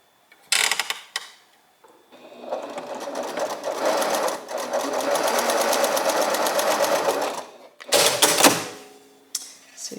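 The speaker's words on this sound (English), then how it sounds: "now I'm going to drop my needle down at that point and sew together" A sewing machine stitches a quarter-inch seam joining strips of bias tape, running steadily for about five seconds with a rapid mechanical whir, framed by brief handling clicks and short bursts of the motor before and after.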